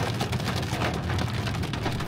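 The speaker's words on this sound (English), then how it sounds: "Yeah, that's hail." Hail pelts a vehicle on a foothills road in a dense, steady rattle of impacts, loud and close, drowning out everything else.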